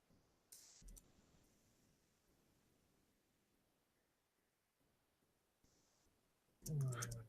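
Sparse clicking from a computer keyboard while typing in Arabic: a few quiet, scattered bursts of keystrokes over a low hum, ending with a louder cluster of clicks.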